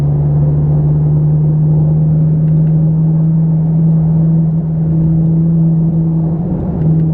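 A Ferrari 458 engine cruising, a steady deep hum with a low rumble throughout, loud and close inside the car, no speech.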